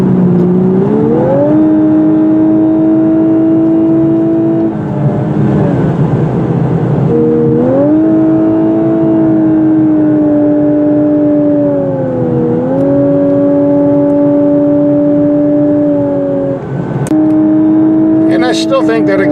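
A 2018 Lexus LC500h hybrid at high road speed puts out a steady droning engine and exhaust note that rises and falls in pitch with throttle changes, heard continuously from inside the cabin.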